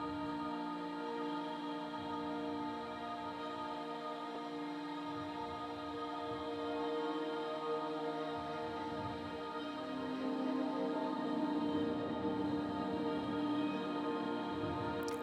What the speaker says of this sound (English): So our atmospheres on their own are going to sound like this.